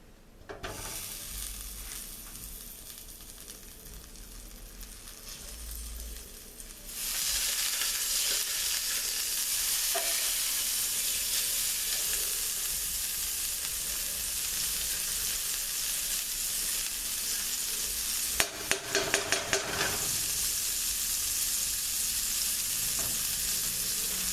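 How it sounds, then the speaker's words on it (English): Pork chops sizzle in a hot pan over medium-high heat, a steady loud frying hiss that jumps in intensity after a quieter start, with a brief burst of crackling near the end. "we're going to be cooking our pork chops over medium-high heat"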